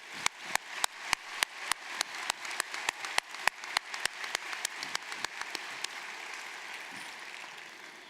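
Audience applause at a university commencement ceremony, heard as sharp, distinct claps ringing out in a steady rhythm that blur into a continuous wash of clapping toward the end, moderately distant in a large hall.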